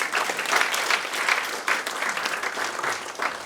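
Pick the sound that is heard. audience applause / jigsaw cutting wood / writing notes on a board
audience applause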